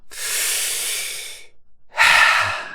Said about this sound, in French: Et puis prendre une grande et profonde respiration.